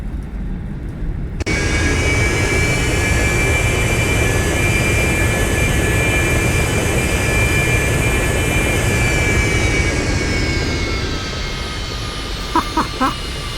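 Simulated Cessna Citation II business jet engaging thrust reversers during landing in X-Plane 11: a sudden loud jet roar rises, holds steady with a whining tone, then winds down as the aircraft slows, with a few clicks at the end.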